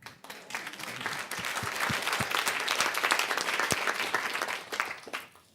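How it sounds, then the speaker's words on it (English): Audience round of applause at a talk on company culture, many hands clapping in a dense wash that swells, holds steady, then tapers off near the end. "Let's give her a round of applause."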